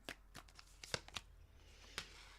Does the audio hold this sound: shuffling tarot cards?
yes